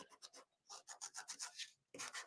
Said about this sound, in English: So I'm just sanding around my edges here.